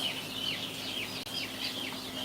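Baby chickens in a backyard brooder setup give repeated soft, high peeping calls in a steady run, close and fairly quiet over a low background hum, with no talking.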